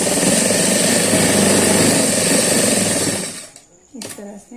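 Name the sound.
sewing machine stitching along marked line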